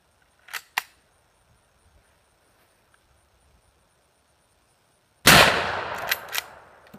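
A big bore lever action rifle firing a 200 grain FTX bullet outdoors lets out one loud, sharp blast that rings and decays, preceded by two small mechanical clicks.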